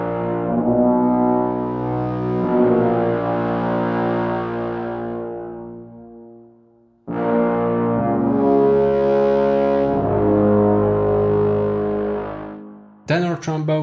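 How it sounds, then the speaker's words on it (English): Trombones and tuba play a sustained brass theme with bass trombone and tenor trombone, two long, full, swelling phrases with a short gap between them, close and loud with no voices. "First we'll begin with the trombones and tuba."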